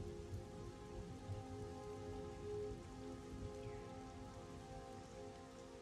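Steady rain falls in the video game Monsters & Memories, a dense, even hiss of drops that stays constant and fairly quiet throughout, with no voices.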